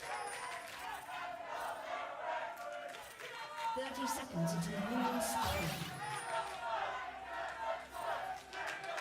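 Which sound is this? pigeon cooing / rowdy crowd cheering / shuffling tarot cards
rowdy crowd cheering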